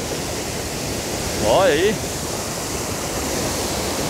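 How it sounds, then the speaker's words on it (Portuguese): A powerful waterfall near a hydroelectric plant roars with a dense, steady rush of water throughout, while a voice speaks briefly over it. "essa cachoeira. Essa é muito tensa, essa é muito forte mesmo."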